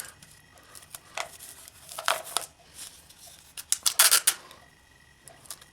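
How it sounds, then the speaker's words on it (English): Adhesive tape is torn and cut while taping the seam of a tube, a series of quiet, sharp ripping and snipping bursts with short pauses between them. "This tape doesn't cut easy."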